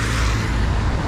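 Steady roar of car traffic on a rainy night street in Guatemala City, a continuous close rumble of passing vehicles with no voices.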